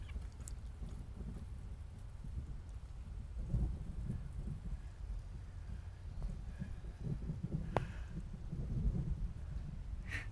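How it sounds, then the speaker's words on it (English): Low rumbling thunder rolls continuously through a backyard chicken run at an off-grid homestead, mixed with steady rain-like noise, with a sharper crackle partway through and a few faint bird calls. "Starting to thunder."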